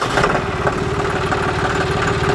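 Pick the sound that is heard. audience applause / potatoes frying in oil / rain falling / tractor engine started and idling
tractor engine started and idling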